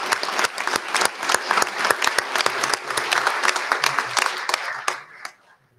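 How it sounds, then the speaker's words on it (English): An audience at a board of education meeting applauds mentees and mentors, a dense sustained round of clapping that fills the room for about five seconds and then fades out quickly. "So let's have a nice round of applause for our mentees and our mentors."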